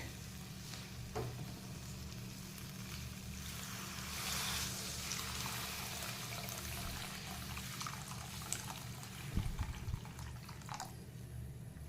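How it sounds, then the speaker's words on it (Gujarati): Water is added to moong dal that has been roasting in oil, with a soft continuous sizzle, occasional clinks and a short burst of pouring and bubbling near the end, faint and close with no talking. "હવે પાણી એડ કરી દઈશું થોડુંક આપણે."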